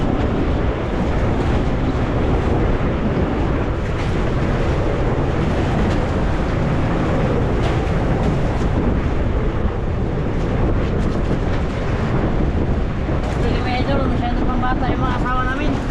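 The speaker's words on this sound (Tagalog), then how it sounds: "malakas yung alon mga idol papalakas yung alon" Strong typhoon wind roars against the microphone over crashing sea waves, a constant loud wash of noise throughout.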